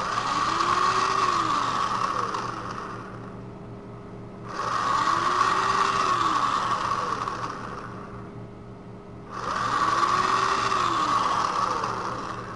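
A small power drill with a 1.5 mm bit bores holes in a voltage regulator's volt indicator panel, whirring in three sustained, fairly loud bursts separated by short pauses.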